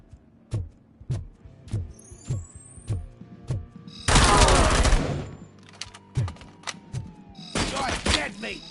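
Gunfire from the video game RoboCop: Rogue City: a steady run of sharp single shots about every half second, broken by two dense bursts of rapid automatic fire, loud and close.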